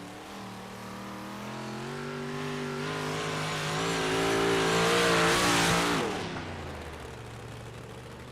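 A race car in a dirt-track e-sports racing game screams down the back straight at Charlotte, its engine note rising steadily in pitch and loudness, peaking, then falling sharply as it lifts off, loud and alone with no talk.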